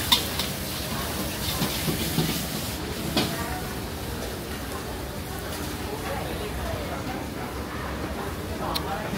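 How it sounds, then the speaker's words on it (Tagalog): Kangkong (water spinach) being stir-fried at a food court stall in Bangkok, a steady sizzling and stirring hiss under nearby chatter and a busy crowd. "Niluluto nila aking kangkong."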